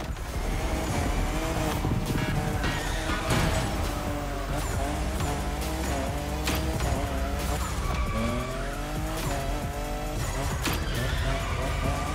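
A car drifts in the racing game The Crew Motorfest, with tires squealing in long rising and falling skids over a continuous engine roar, loud and unbroken throughout.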